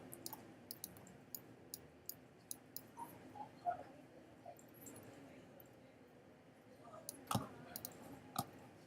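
A computer mouse gives a string of soft, sharp clicks at irregular intervals against a quiet room background, with a couple of slightly louder clicks near the end.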